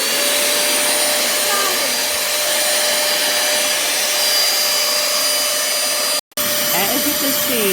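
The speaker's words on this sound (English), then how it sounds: "The vacuum actually seems really strong suction." A Pemacom 10KPa handheld cordless vacuum cleaner runs up close with a loud, steady motor whine and airy rush. It cuts out for a moment near the end, then starts again.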